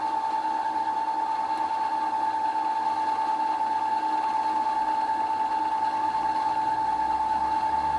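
A Brother FS40 sewing machine winding a bobbin gives off a steady, even motor whir with a constant high hum, running close and uninterrupted throughout with no voices.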